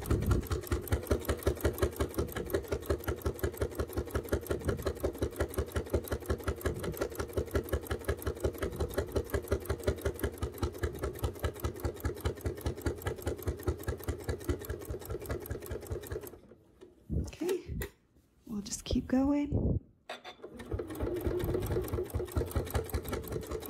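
A domestic sewing machine stitches binding onto a quilt in a fast, even mechanical chatter, close and steady, pausing briefly near the end before running on again.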